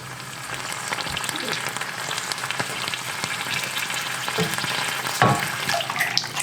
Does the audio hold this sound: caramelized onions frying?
yes